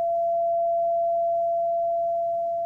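A steady pure tone comes from two speakers driven by a function generator to show sound interference. It holds at an even pitch, loud and unbroken, with no talking.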